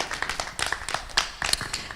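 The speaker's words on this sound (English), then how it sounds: "clap for women" Scattered hand claps from a comedy club audience, a few brief, uneven bursts at moderate distance, fairly quiet.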